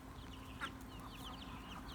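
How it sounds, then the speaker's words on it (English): Silkie chickens and a silkie rooster clucking in a front yard, with a brief louder cluck standing out over a steady low murmur of fowl and soft bird chirps. "here's a silky rooster"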